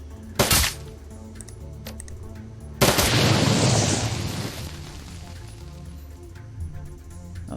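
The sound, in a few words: gunfire in video game Shadowrun: Dragonfall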